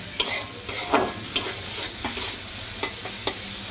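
Onion, ginger, garlic, cinnamon and cardamom sautéing in a pan for chicken curry, a close sizzle punctuated by a series of quick spatula scrapes and clinks, no voices.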